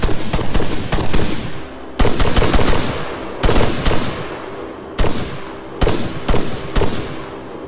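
Night combat gunfire in the video game ArmA 3, with unsuppressed rifle bursts firing through foliage. Loud, close automatic bursts come in repeated clusters, each cutting off sharply and followed by brief decaying echo, with no talking.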